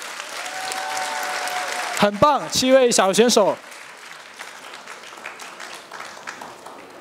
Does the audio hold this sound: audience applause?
yes